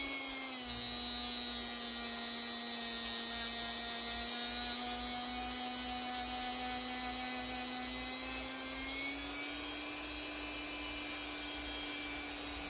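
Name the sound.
rotary tool with abrasive head cleaning KX 85 power valve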